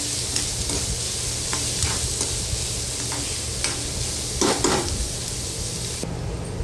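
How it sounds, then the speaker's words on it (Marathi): Chopped onion sautéing in hot oil with cumin and asafoetida for Maharashtrian vangyache bharit, a steady close sizzle with occasional spoon scrapes and stirring clinks, no voices. "कांदा व्यवस्थित परतून घ्यायचा।"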